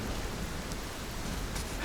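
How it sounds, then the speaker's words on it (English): Steady broadband hiss of rain falling in the video game Cairn, a constant soft wash with no distinct drops, moderately loud and continuous throughout. "It's raining."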